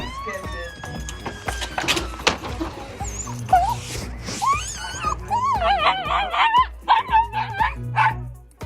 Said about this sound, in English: This is how a fluffy dog gets excited when her favorite person comes home.